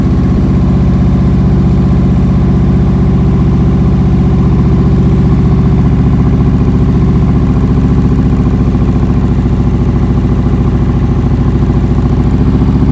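A motorcycle engine runs steadily at low speed with the throttle held during slow-speed riding practice, a loud, close, even drone throughout with no noticeable revving and no talk.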